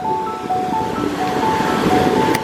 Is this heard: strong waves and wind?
yes